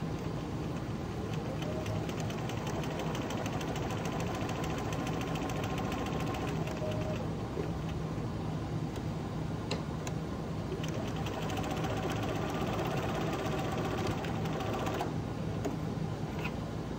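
A sewing machine stitching a pocket facing onto trousers runs steadily for most of the stretch, a continuous whirring motor hum at moderate loudness with no voices.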